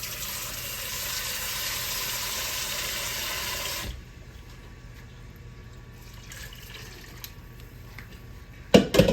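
Water from a tap pours into a pot of fresh green beans in a kitchen, a steady hiss for several seconds that then stops. It is followed by quiet handling sounds and a few sharp clatters of the pot.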